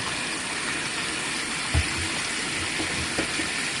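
An RV washing machine filling with water for the final rinse gives a steady, soft rushing wash across the clip, with a couple of faint low thumps around the middle and no talk.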